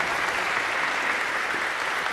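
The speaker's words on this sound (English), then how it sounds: "Let's give them another round of applause, too" Dense, even applause from a concert audience after a men's music fraternity performance, a continuous wash of many hands clapping without pause, loud and close.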